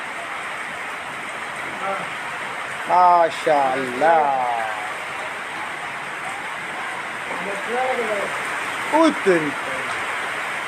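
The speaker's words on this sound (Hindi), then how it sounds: "बारिश हो रही है बाबा, बारिश" Rain falls steadily outdoors in the Korangi area, a constant hiss under brief bursts of conversation from a couple of voices.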